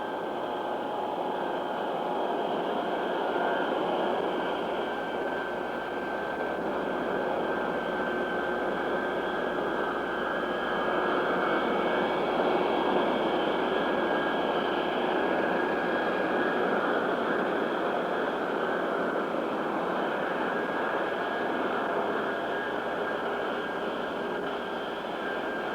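A Boeing 707 jet airliner taxis out ahead of a low-speed shakedown flight, its engines giving a loud, steady whining roar that runs unbroken throughout with no voices.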